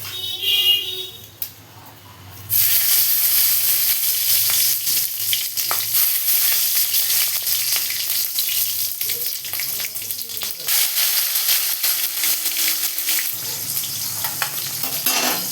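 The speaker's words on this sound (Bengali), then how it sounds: "তেল গরম হয়ে গেছে, এবার আমি ফোড়নগুলো আস্তে আস্তে দিয়ে দেবো।" Spices hit hot mustard oil with a sudden loud sizzle that keeps hissing steadily, with occasional stirring clinks.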